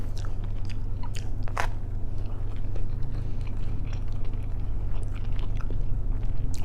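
Close, crisp bites and wet chewing of homemade pizza, with irregular crunchy snaps over a steady low background hum.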